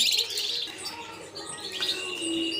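Canary parents feeding four chicks give bright, high chirps and short trills close by, scattered bursts with faint softer peeping between them.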